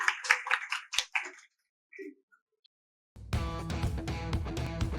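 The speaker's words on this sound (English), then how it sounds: "Can we have a big, big round of applause for our amazing speakers out here?" A short burst of audience clapping at a Web3 networking mixer, loud at first and quickly thinning to a few scattered claps before a brief pause, after which loud music starts.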